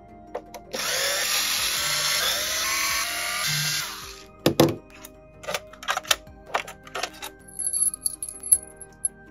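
A powered T10 Torx driver whirs steadily for a few seconds on screws in an Xbox Series S console, followed by sharp metallic clicks and small clinks as screws are pulled and set down.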